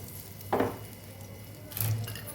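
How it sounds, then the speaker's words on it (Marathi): Hot ghee tempered with cumin and asafoetida is poured into brinjal bharit, giving a brief hissing sizzle, then a second louder burst of sizzling and stirring, close by with no talk. "ती फोडणी आपण आता भरीतमध्ये टाकूया"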